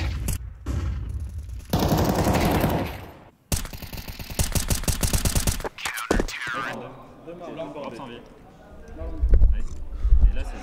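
Rapid AK-47 automatic fire in a Counter-Strike match at the IEM Katowice 2025 esports event comes in two long, dense bursts, followed by quieter game sounds with voices talking.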